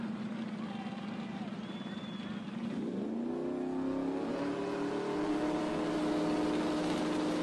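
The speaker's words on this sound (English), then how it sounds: "Who's got the Honda S2000? Who's got the Mustang on the right hand side?" A Honda S2000 and a Mustang launch side by side at a drag strip, engines revving hard and rising in pitch as they accelerate away, loud and continuous with some background voices.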